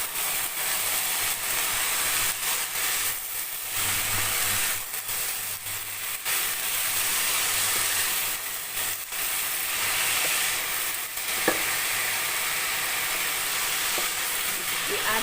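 Chopped vegetables and a bay leaf sizzle steadily in a hot pan for bolognese sauce, with intermittent scraping stirs across the loud, continuous frying hiss.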